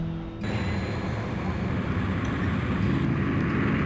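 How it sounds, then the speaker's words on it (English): An airplane speeds along the runway for takeoff, its engines a loud, continuous roar over a deep rumble that swells right after a quieter opening moment. "As the plane started to speed along the runway, Hannah anxiously gripped onto her seat."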